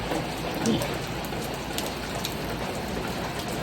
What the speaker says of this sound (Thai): เช้านี้กลับมากับบรรยากาศฝนตกนะฮะ